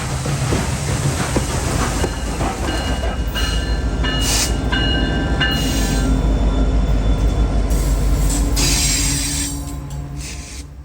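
Freight trains rumble through Norfolk Southern's DeButts Yard in Chattanooga, Tennessee, a former Southern Railway classification yard, with a steady heavy roll, wheel squeal and metallic screeches over a low drone that eases off near the end.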